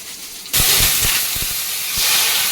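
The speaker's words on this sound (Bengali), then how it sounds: "কড়াইতে এখন তেল দেব তেলের মধ্যে শুকনো লঙ্কা আর গোটা তেজপাতা দুটো আর দেবো গোটা জিরে" Dried red chillies, whole bay leaves and cumin seeds hitting hot oil in a kadai, an abrupt loud burst of hissing sizzle with a few low knocks underneath, sustained to the end.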